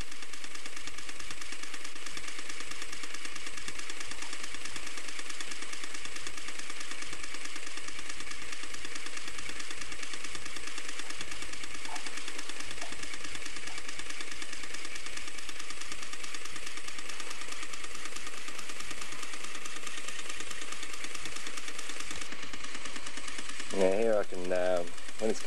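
A homemade magnet motor spins at top speed, giving a steady, close whirring hum with a mechanical rattle. The hum runs unbroken for a long stretch, then its texture shifts near the end.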